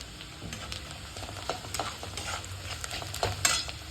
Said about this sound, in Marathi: बघा, आपला कांदा बऱ्यापैकी भाजला झालेला आहे.